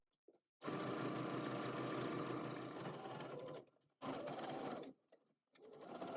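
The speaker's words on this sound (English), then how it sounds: "sew close to the edge of the strap along the bib and continue up the entire length of the shoulder strap / ties" Sewing machine stitching close to the edge of an apron's bib and shoulder strap, running in steady continuous bursts with short pauses between, close and fairly quiet.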